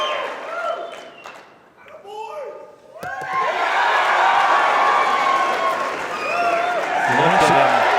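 Crowd applause and cheering at a professional nine-ball pool match swells up midway and holds loud and steady, with talk over the opening seconds.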